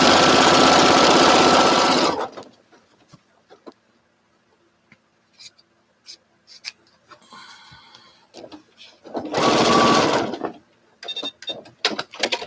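A sewing machine stitches a quilt strip down in two loud, steady bursts, about two seconds each, with quiet clicks and fabric handling between them.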